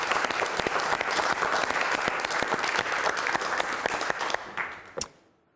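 Studio audience of the French TV game show Des Chiffres et des Lettres applauds, brisk dense clapping with sharp individual claps, loud and close, tapering off and stopping near the end.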